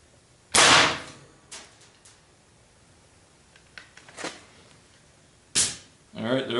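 A multi-shot quick-exhaust-valve air rifle with a 5.2 gram charge at 420 PSI fires once, a loud, sharp crack up close followed by quieter clicks and thumps, with a voice starting at the end.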